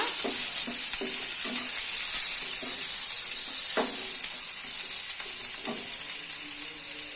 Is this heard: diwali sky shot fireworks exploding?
no